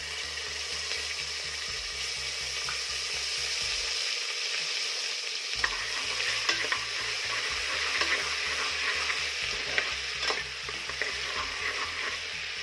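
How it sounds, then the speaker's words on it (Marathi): Ginger garlic paste sizzling in hot butter and oil for a large batch of pav bhaji, a steady crackling fry with a constant low hum that briefly drops out, plus occasional stirring scrapes, close and continuous without talk. "आलं लसूणची पेस्ट छान बटर आणि तेलामध्ये परतून घ्यायची आहे"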